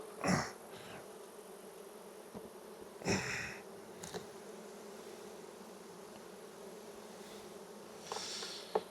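Honey bees in a sparsely populated Langstroth hive give off a low, steady hum, with a few louder buzzes passing close at intervals.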